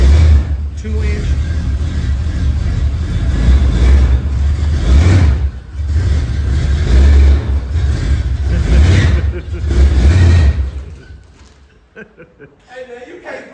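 A Chevelle's small-block V8 running loud and close, rising and falling through several revs in a rough repeating pattern before dropping off near the end, with voices talking over it.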